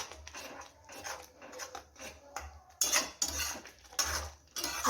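Ginger, garlic and coriander paste is stirred in a pan over a high flame, with a metal spoon scraping and clinking in uneven bursts, fairly close and moderately loud.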